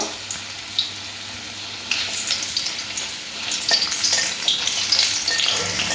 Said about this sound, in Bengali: তেলের মধ্যে দিয়ে আলুগুলো প্রথমে ভেজে নেব।